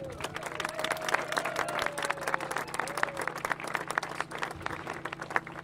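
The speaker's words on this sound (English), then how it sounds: "Let's give them a round of applause." An audience applauds at a Colorado bill signing, steady dense clapping throughout with a constant low hum beneath and a voice faintly audible under the applause.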